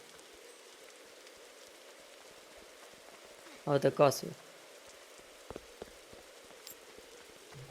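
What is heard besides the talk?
rain falling in a video game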